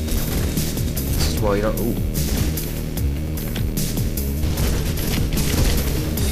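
Machine gun fire rattles in the video game Mirror's Edge, with dense booming bursts and impacts filling the scene at loud, constant intensity while a player talks over it.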